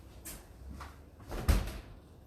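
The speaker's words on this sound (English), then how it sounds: "let me open the door real quick." A door is opened in a quiet indoor space, a soft creak and low thud of the latch and swing peaking briefly mid-clip, faint and close with no talking.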